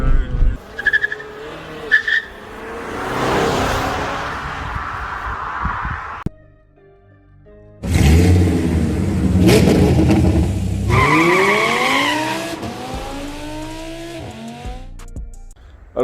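Audi A3 S line drifting, with loud tire squeal and revving engine in bursts; a sharp gap of near silence mid-clip, then rising, sweeping squeals and engine roar close by.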